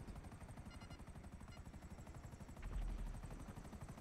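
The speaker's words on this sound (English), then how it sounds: "I got like 2 choppers on me" Police helicopters close in during a GTA 5 chase, their rotors beating in a fast rhythmic chop with bursts of game gunfire layered over a steady low rumble, fairly faint overall.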